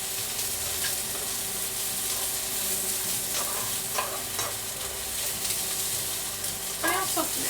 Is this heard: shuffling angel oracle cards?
no